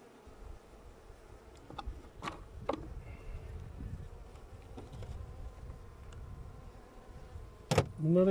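Honey bees buzzing in a continuous low drone during an October beehive inspection, with faint handling knocks and a brief sharper sound near the end.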